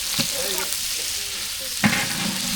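Mustard seeds, cumin, onion and green chili sizzle in hot oil in a pan, a steady close hiss of frying with a couple of brief stirring knocks of the spoon and no voices.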